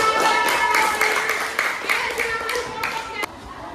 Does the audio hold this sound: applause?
yes